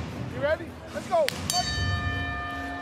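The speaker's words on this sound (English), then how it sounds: "Bell in round one." A bell rings to start round one of a Bellator MMA women's fight, sounding a few bright strikes that leave a ringing tone, heard through a crowd and a commentator's voice.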